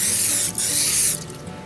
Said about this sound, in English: Generic cooking spray.